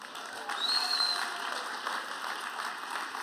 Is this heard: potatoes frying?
no